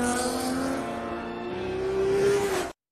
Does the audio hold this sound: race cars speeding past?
yes